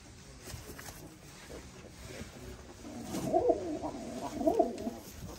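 Pigeons, including Long Face, Polish Volski and Hungarian breeds, coo softly at first, then a louder run of throaty, rolling coos builds in the second half over low background noise.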